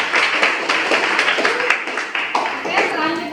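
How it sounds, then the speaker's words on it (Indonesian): A classroom full of students claps for a student group, a dense, close round of applause with scattered sharper hand claps, continuing steadily throughout. "Oke, kita kasih aplaus untuk kelompok kita."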